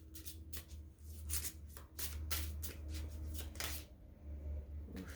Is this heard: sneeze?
no